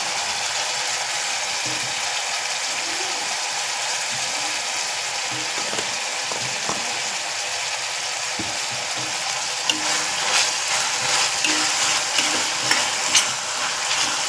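Chopped onion with salt frying in oil in a pan for a fish curry, giving a steady close sizzle with occasional scraping clicks of stirring and no talking.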